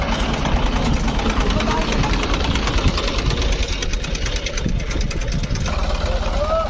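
An HMT 3522 tractor labours in soft mud with under-inflated tyres, its engine running loud and steady with a knocking, straining drone throughout, voices talking faintly underneath.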